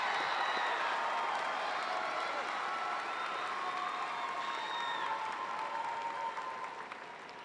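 Sustained applause and cheering from a large crowd at a university commencement, honoring graduates, dense and continuous before fading slightly at the end.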